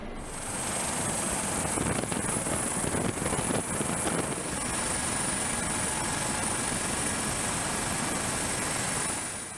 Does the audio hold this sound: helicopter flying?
yes